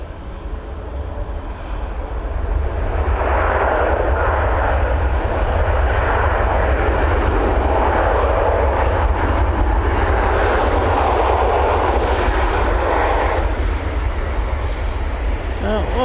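An airliner lands at Manchester Airport, its engine roar building quickly and then holding steady and loud for most of the stretch, with a faint rumble underneath.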